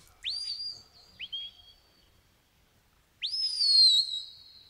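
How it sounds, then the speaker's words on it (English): Shepherd's whistle commands to a sheepdog working sheep at a sheepdog trial: a long rising-falling whistle, a short second blast, then after a pause another long sustained whistle, clear and fairly close in a quiet outdoor setting. "Very responsive to her whistles."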